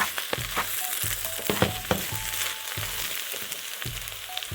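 Rice and biryani masala stirred together in a hot pot for meatball biryani: repeated scraping strokes of a spoon against the pot over a faint sizzle, with no talking.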